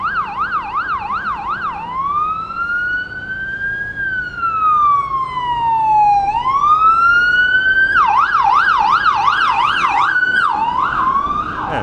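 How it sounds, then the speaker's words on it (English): An ambulance siren blares loud and close on a Vancouver street, moving between a fast yelping warble and long rising and falling wails before the rapid yelp returns, with no talk over it. "we're very close to the hospital zone too, so you're going to see quite a few ambulances going out and around."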